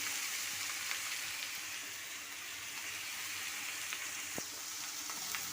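Beetroot tossed into a pan of softened onions sizzles in a steady, even fry, with a few faint clicks of stirring and no voices.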